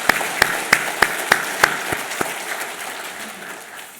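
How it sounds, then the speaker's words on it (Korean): A church congregation at a Sunday service claps in unison, about eight sharp, evenly spaced claps ringing in a reverberant hall before fading into a quiet room tail. "박수로 환영하겠습니다"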